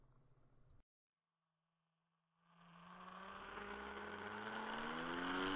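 A nitro-powered RC car drives along a road, its small engine starting after a brief silence and building into a loud, rising whine with droning harmonics, nearby and alone.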